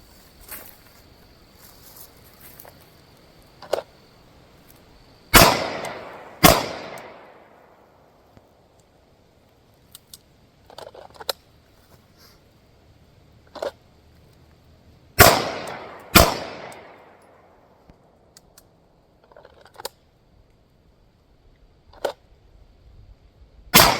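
A Sig Sauer P226 Mk25 pistol fires four loud, sharp shots outdoors at a target about 10 yards away, in two spaced pairs, each followed by a decaying echo. Faint clicks and ambience fill the gaps between shots.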